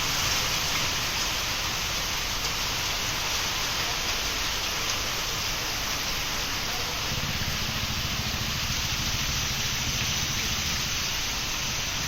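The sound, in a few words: heavy rain with gusty winds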